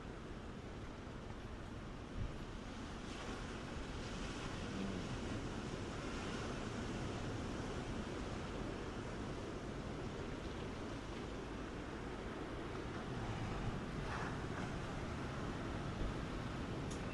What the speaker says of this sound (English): Here comes that wind.